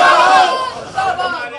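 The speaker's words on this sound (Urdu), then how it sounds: "شہریوں نے پاک فوج اور سپہ سالار کے حق میں نعرے بازی کی۔" Citizens in Lahore chant slogans in support of the Pakistan Army and its chief, a short burst of massed crowd voices shouting together, loud and close, with the chant dipping and rising again.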